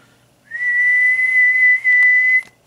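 A steady, near whistling tone rings out from an HD 8950 tube under test on a Palomar 90A tube tester, one watt in and ten watts of modulation, holding level for about two seconds with a brief dip before cutting off.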